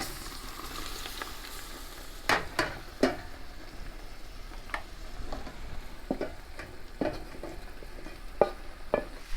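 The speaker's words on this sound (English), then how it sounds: "Now we are going to add the onions to the roux." Onions are stirred into a roux in a soup pot for French onion soup, giving a low steady sizzle broken by a few scattered scrapes and knocks of the spoon, with no talking.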